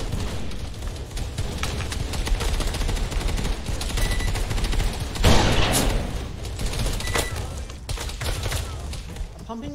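A full magazine is emptied in a shooting video game: rapid, repeated gunshots rattle on and off throughout, with one louder burst in the middle, while voices talk underneath.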